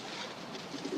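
Soft pigeon cooing, low and murmuring near the end, under a steady hiss of background noise in a roosting setting; no one speaks.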